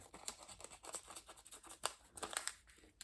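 Scissors snipping out a paper sticker, a quick series of soft, crisp cuts close by, irregular in rhythm and fairly quiet.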